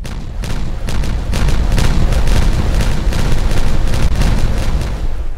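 A loud explosion in the video game Timberborn, a dense, sustained rumbling blast with rapid crackling bursts layered throughout for several seconds.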